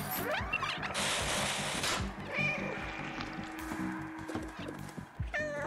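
A cat meows repeatedly in the video game Stray, several drawn-out cries rising and falling over faint game ambience, fairly close and clear.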